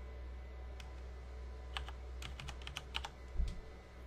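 A code typed on a keyboard setting up an Xbox 360 console, with soft, scattered keystrokes over a steady low hum, faint and uneven with a few quick clusters near the end.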